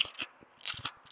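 Crunchy corn flake cake made with cornmeal and wheat flour, served warm with melted butter, bitten close up: a few crisp crunches and chewing crackles with short gaps, fairly quiet.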